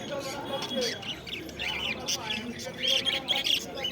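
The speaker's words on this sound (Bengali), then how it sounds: "এখানে যেসব বদ্যি পাখিগুলো দেখছো" Budgerigars at a bird market give a busy stream of close, shrill squawks and chirps, overlapping with people talking nearby.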